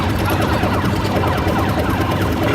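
Bombs drop in an arcade video game: a dense, loud burst of crackling electronic explosions and rapid bursts fills the clip without a break, with no voices.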